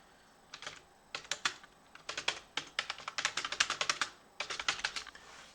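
Rapid bursts of clicking keystrokes on a computer keyboard as a search is typed, in uneven clusters with short pauses between words, close and clear against a quiet room.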